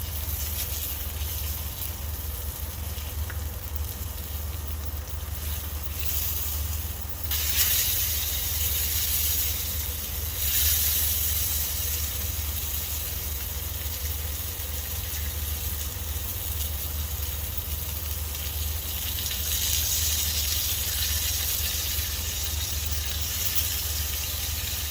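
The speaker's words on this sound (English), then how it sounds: "This is called a sizzle pan for a reason." Salmon, asparagus and mixed vegetables sizzle in a hot cast iron sizzle skillet, a steady loud hiss and crackle running throughout with brief flare-ups in intensity.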